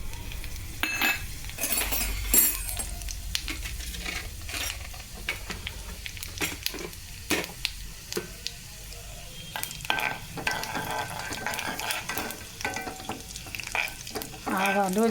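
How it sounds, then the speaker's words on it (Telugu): Mustard seeds, cumin, fenugreek, chana dal, urad dal and dried red chillies tempering in hot oil for a curry: a close, steady sizzle dotted with sharp crackles and pops for about fifteen seconds, with no talking. "ఇదిగోండి కూరకి పోపు వేస్తున్నాను."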